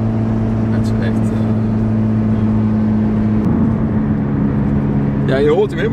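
A LuAZ car with an automatic transmission drives along with a steady, loud engine drone that holds one pitch with no gear changes, and voices come in briefly near the end.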